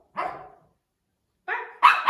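A dog barks on a spoken cue during marker training: one bark, a pause of about a second, then two quick, close, loud barks with no talking.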